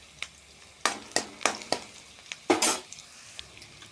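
Onions frying in a pan for a paneer masala, with a low background sizzle punctuated by several sharp scraping and stirring clatters, one louder burst near the end, no talking.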